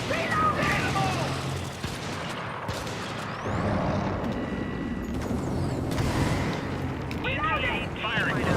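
Dense, continuous gunfire and explosions in a shooter video game, with shouted voice lines and radio callouts mixed over the roar of battle.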